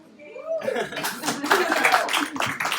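A conference audience at a financial independence event breaks into scattered applause and light laughter, rising to a dense patter of claps nearby, with voices mixed in.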